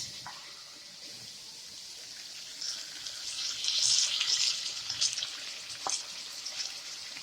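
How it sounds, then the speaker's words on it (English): Water is poured into a cooking pot of gravy for a turkey Salisbury steak dinner, a hissing, sizzling splash that swells midway and trails off, heard alone and fairly close. "Now I'm going to put some more water in that because I don't want it to burn."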